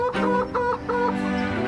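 A chicken clucks in a few short, evenly spaced bursts, close and fairly loud, with no talking.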